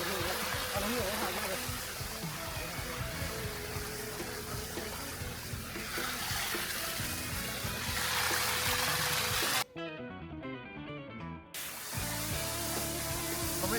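Ta Yok Noi waterfall in Kanchanaburi, Thailand, heard from the top of the falls: a loud, steady rush of falling water that runs almost continuously, broken only by a brief change in the sound partway through.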